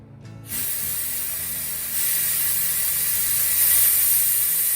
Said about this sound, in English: hopefully I can get a line to stay on this and then blow out the other side with air